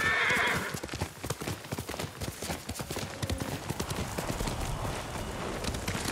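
A horse in the video game Ghost of Tsushima whinnies loudly at the start, then hooves clop in a steady, fast rhythm as it gallops along.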